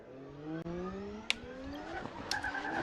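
Subaru BRZ drift car making over 1,000 horsepower at a drift competition, its engine note climbing steadily in pitch with tire squeal and sharp transient bangs, loud and close throughout.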